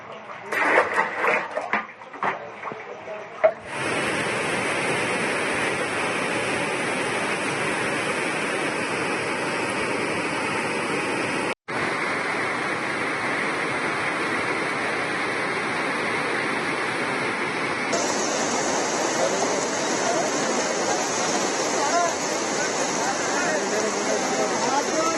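Heavy rain and floodwater rush through a town in Kalaburagi, a loud, steady broadband roar of pouring water that holds throughout, briefly cut off once and shifting slightly in tone later, after a few scattered noisy bursts at the start.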